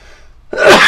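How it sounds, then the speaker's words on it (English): A single loud, close sneeze bursts out after a brief quiet intake of breath, sharp and breathy. "Going to sneeze real quick."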